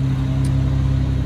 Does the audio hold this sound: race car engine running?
yes